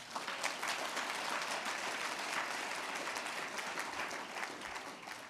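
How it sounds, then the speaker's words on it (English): Steady, sustained applause from an audience at a diaspora awards gala honoring Bahamian community figures, a dense wash of clapping that holds at an even level throughout with no talk over it. "Let's give them another round of applause."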